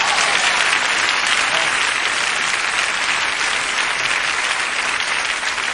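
A large audience at a motivational talk gives a dense, sustained round of applause, loud and unbroken throughout with no speech over it.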